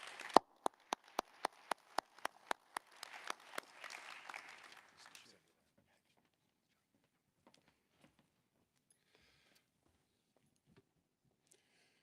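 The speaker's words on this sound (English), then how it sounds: "Can we have one more round of applause for all the award winners for the Hibbs Awards?" An audience at the 57th SRS Annual Meeting applauds the Hibbs Award winners. The clapping starts loud and crisp with distinct claps, then thins and fades out after about five seconds, leaving near silence.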